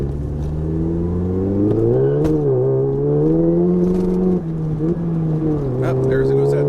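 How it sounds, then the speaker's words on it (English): A VW Mk7 GTI fitted with an upgraded IS38 turbo revs hard while accelerating up an entrance ramp. The engine note is loud and close, climbing and dipping in pitch across several gear changes. "we will hopefully be able to hear the engine rev, check out wheel spin"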